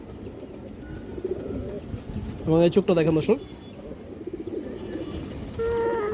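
Giribaz pigeons coo in a low, steady murmur throughout, while someone speaks over them with a brief louder burst of talk in the middle.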